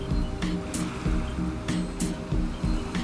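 Ocean surf rolls onto a sandy nesting beach, with waves washing in and breaking at an uneven rhythm over a steady low roar, close and moderately loud.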